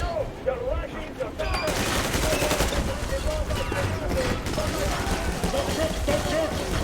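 Video game gunfire crackles in rapid bursts, a steady fusillade mixed with engine noise and shouted voices from characters over the action.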